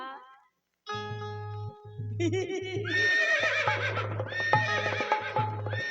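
A horse neighs and whinnies repeatedly in loud, close, tonal bursts with rising and falling pitch, over a low rhythmic droning tone, with faint clip-clop hints and no talk.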